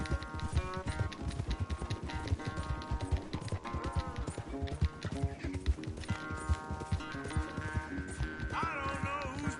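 Horse hooves galloping during a race in the video game Red Dead Redemption 2, a steady rapid beat running the whole time beneath a loud orchestral music score.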